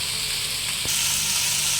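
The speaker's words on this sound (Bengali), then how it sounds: "এটা আমি আবার পাঁচ মিনিট ভাজবো ঢাকনা দেবো না শুধু নাড়াচাড়া করবো এইভাবে" Ivy gourd (kundri) sizzles steadily as it fries in a hot pan with green chillies, a continuous close hiss with a brief scrape of stirring partway through.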